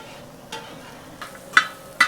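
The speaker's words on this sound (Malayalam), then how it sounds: "ആ ഉള്ളിയിലേക്ക് 1 സ്പൂൺ മഞ്ഞൾപ്പൊടി, തേങ്ങ അരിഞ്ഞത്," Onion with turmeric powder and chopped coconut is sautéed in a pan while cooking beef roast, giving a faint steady sizzle broken by a few sharp scraping stirs of a spoon against the pan.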